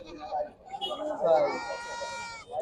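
A goat bleats with a long wavering cry amid voices talking nearby at a busy outdoor goat market.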